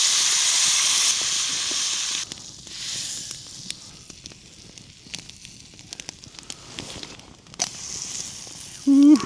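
Sausages sizzling in butter over a campfire at a snowy winter camp, a steady hiss and crackle, loud at first, then quieter and uneven with occasional pops.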